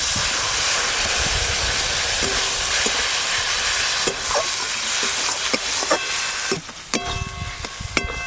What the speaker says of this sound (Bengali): এইভাবেই মশলা কষতে হবে।